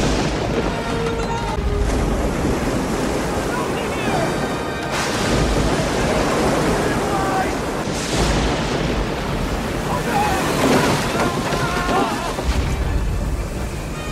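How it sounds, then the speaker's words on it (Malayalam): Stormy sea with crashing waves and heavy booming gusts around a wrecked ship, a loud dense roar with surging swells and deep rumbling impacts across the whole stretch. "പ്രക്ഷുബ്ധമായ കടലിൽ തിരമാലയിലും കൊടുങ്കാറ്റിലും പെട്ട് കപ്പൽ തകർന്നു."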